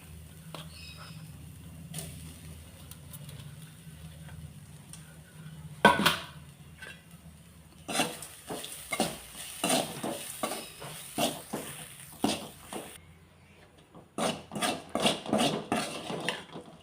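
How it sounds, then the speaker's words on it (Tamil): Grated coconut being sautéed in a pan at home, with a utensil repeatedly scraping and stirring against the metal in bursts of clinks and scrapes, fairly close, no talking. "ஒரு மூடி தேங்காயை வதக்கி எடுத்துக்குவோம்."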